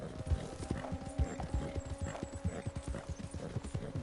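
Thoroughbred horse's hooves clip-clop in steady rhythm in Red Dead Redemption 2, close and fairly loud, with faint game ambience behind and no talking.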